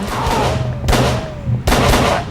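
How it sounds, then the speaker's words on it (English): Enemy gunfire in the Call of Cthulhu video game, the Marsh Refinery level: two or three sharp, loud shots a second or so apart, each with a long echoing tail, and no speech. "It's him shooting at us, yeah."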